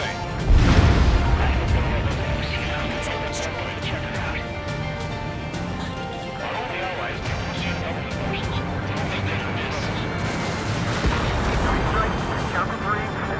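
Bombs detonating in the Ace Combat 7 combat flight game: a heavy blast up front, then rolling booms, crackling debris and gunfire layered over a dense battle din, with voices talking in the mix.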